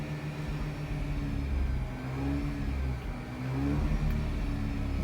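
A Mazda RX-8 rotary engine hums at moderate revs while downshifting into fourth gear, its pitch sliding and swelling smoothly, heard fairly faintly from inside the car.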